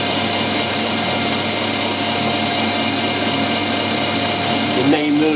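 Steady high-pitched mechanical whine of a blunt drill bit running continuously, loud and close, with a brief shift in pitch near the end.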